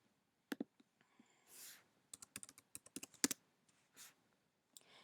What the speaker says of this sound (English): I'm just going to type out Xcode select install.